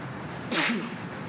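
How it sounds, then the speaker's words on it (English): A man at a press briefing sneezes into his elbow. It is a single short, muffled burst, fairly quiet against the room's low background hum. "that's how we're supposed to sneeze now. Into the elbow, folks."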